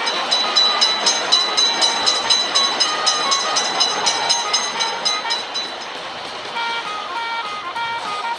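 A cartoon train rolls through a railroad crossing in a crossing game, a loud, steady, rhythmic clickety-clack of wheels with bright tonal ringing above, continuous for the whole stretch.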